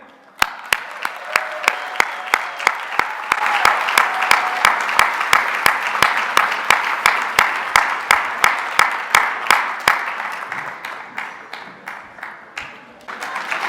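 Conference audience applause building into a sustained rhythmic clap in unison, sharp regular beats over a dense crowd wash that gradually slows and thins toward the end.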